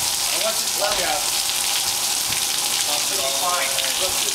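Artificial rain comes down torrentially as a loud, dense, steady hiss of heavy water spray, close and constant, with a few faint voices under it.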